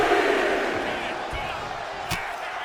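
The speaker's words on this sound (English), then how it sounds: "The sound of this crowd is deafening" A dense, roaring arena crowd cheers without pause in the WWE 2K24 wrestling game, a loud broad wash holding steady throughout, punctuated by a few sharp thuds and slaps.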